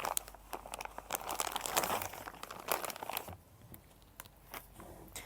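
Plastic VCI and rust-protection bags wrapped around a new China-made fuel injector for a Komatsu industrial engine crinkle and rustle as they are handled up close, in busy bursts that ease off toward the end.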